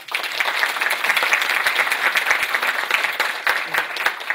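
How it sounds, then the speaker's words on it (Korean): Warm audience applause for a professor being welcomed at a higher-education forum, a dense, steady wash of many hands clapping at close range for several seconds. "서보명 교수님을 따뜻한 박수로 좀 맞이했습니다"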